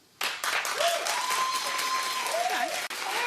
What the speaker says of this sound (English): Clap if you see Beyonce as a fashion icon.